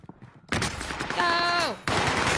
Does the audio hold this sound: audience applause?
no